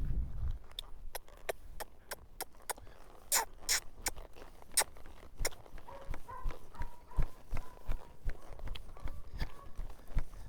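A horse lopes on soft ground, its hoofbeats landing as fairly faint, regular thuds in a rolling rhythm, with a few scuffs and creaks of tack in between.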